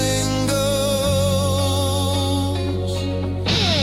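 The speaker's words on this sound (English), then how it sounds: "We force a long guitar solo that climbs upward, and it ends up sounding like this." Suno AI-generated song featuring a long guitar solo that climbs upward, dense sustained instrumental texture with held tones and a shift in the low end partway through, loud and continuous with no voices.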